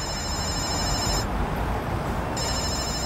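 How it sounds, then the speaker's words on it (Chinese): A telephone rings loudly and close by in an indoor police station setting, a continuous electronic ring that breaks off briefly in the middle and then resumes. "我接个电话。"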